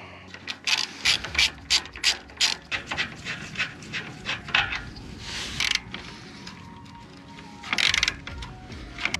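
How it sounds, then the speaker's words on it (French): A ratchet spins in quick, sharp clicking bursts while loosening the fasteners on a Fiat Grande Punto engine radiator. The sound is close, with pauses between runs and a final flurry of clicks near the end. "Donc je vais dévisser tout ça."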